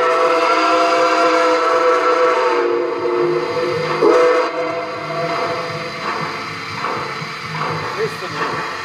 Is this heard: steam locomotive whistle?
yes